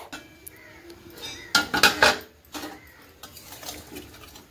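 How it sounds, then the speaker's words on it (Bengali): A spice paste of cumin, chili and ginger being mixed with water in a pan or bowl. Utensils scrape and clink, with a loud cluster of metallic knocks midway and softer stirring around it. "জল দিয়ে এবার আমি মিক্স করে নেব"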